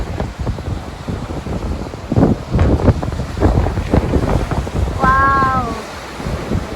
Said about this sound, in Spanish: mira cómo se levantan las olas